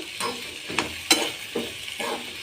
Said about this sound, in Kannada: ಇದನ್ನು ಹಿಂಗೆ ಕೈ ಆಡಿಸ್ಕೋತಾ ಇರಬೇಕಿಲ್ಲ ಅಂದ್ರೆ ಹೊತ್ತದ.